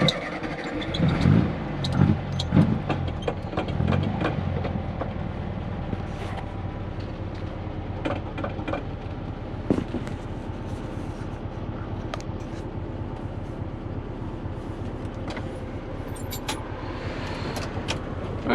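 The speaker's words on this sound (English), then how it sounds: "let's go for a drive" A Volkswagen Beetle, recently repaired, drives along with a steady engine drone and road rumble throughout, a few louder bumps early on, heard from inside the car with no talking.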